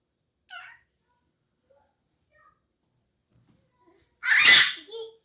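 A young girl sneezes once, loudly and close, after a brief quiet vocal sound earlier and a short silence; a small voice sound follows the sneeze.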